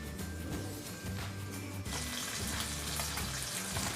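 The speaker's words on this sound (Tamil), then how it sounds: "மீன் ஒரு பக்கம் வறுபட்டவுடனே இன்னொரு பக்கமும் திருப்பி போடுங்க" Ora fish frying in a pan, heard as a steady, fairly faint hiss of hot oil that grows denser partway through, with faint background music underneath and no talking.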